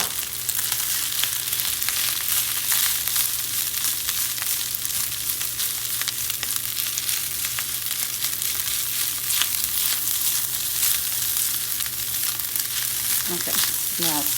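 Rice sizzles and fries steadily in a hot pan while seafood rice is being cooked, a dense continuous crackle with a low hum beneath and a few stirring scrapes near the end.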